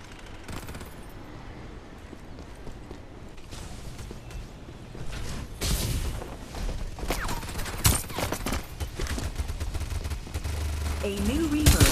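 Gunfire in the mobile shooter Farlight 84 builds from scattered shots into sustained automatic bursts and heavy bangs, with mechanical clicks and swishes mixed in, growing louder and busier toward the end.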